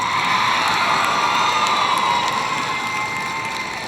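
Crowd cheering and whooping at dog show group judging, a steady, dense roar from a large audience that holds at a constant loud level for the whole stretch, with no clear speech on top.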